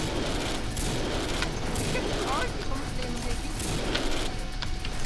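Rapid gunfire from the zombie-shooting video game Codename Cure crackles in dense, overlapping bursts, loud and continuous with no pauses and no talking.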